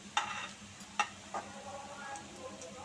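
Chicken tikka kababs frying in a pan, a steady soft sizzle with a few sharp clinks of a utensil against the pan, no voices.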